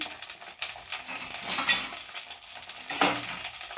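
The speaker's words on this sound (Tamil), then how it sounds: "போட்டு நல்லா வதக்கிடுவோம்" Brinjal sautéing in plenty of oil in a pan for a Chettinad oil-fry curry, heard as a dense, hissing sizzle with occasional stirring clinks and scrapes, close and steady, with no talking.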